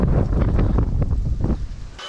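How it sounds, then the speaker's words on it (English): Strong, steady wind roars and buffets the microphone at a work site where a stick welder is about to be used on a Texas Pride dump trailer, gusting continuously throughout. "And that wind is picking up today."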